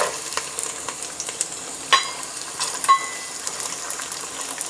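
Grated coconut sizzling in hot oil with garlic and peanuts for roasted poha chivda, stirred steadily, giving a continuous close frying crackle broken by a few sharper scrapes and clinks from the spoon against the pan.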